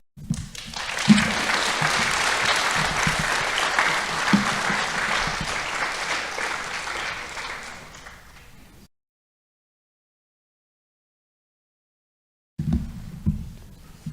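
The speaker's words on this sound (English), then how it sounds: "Thank you for that clap." An audience at a school district hall of fame ceremony applauds loudly and steadily for about nine seconds. After a few seconds of silence, the clapping starts again.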